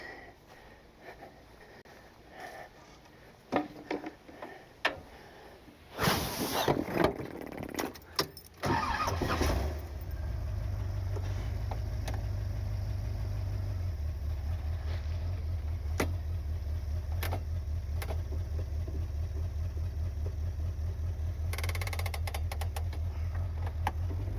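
A 1979 Corvette's engine starts with a burst of noise and then settles into a steady, loud low rumble as the car backs up, with a few sharp knocks and clicks over it early on.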